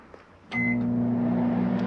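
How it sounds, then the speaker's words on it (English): A microwave oven in a 2017 Keystone Cougar 337FLS travel trailer starts with a short beep and then settles into a steady, close humming drone. "Got a big pantry here, microwave. Let's start that."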